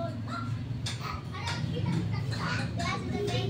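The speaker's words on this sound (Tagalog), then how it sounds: "Naglalaro yung mga bata, kaya maingay mga ka-viewers." Children playing noisily outdoors, their distant shouts and chatter mixed with crow-like calls in a busy, continuous background wash.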